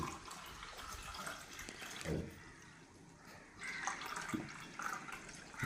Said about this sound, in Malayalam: നമ്മൾ ഇതിലേക്ക് ഒഴിക്കാണ് കേട്ടോ നമ്മുടെ ഫ്രഷ് ക്രീം